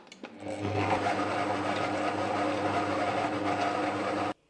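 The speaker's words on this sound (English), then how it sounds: "When you hit start again, the speed will increase and start the kneading." Magimix Cook Expert food processor kneading bread dough, its motor running as a steady, loud, close whir that starts after a couple of soft knocks and holds without a break until it stops abruptly.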